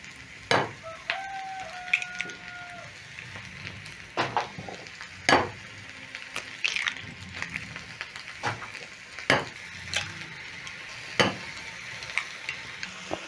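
Sausage and mushrooms fry in a pan with a steady sizzle, while sharp clinks and scrapes of stirring and utensils ring out irregularly over it.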